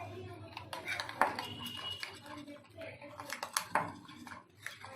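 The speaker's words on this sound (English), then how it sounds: "First take the curd, add some milk powder and thoroughly mix this." A utensil clinks and scrapes against a bowl while curd is stirred together with milk powder for paneer tikka, a busy run of close metallic taps and rattles under a steady background hum.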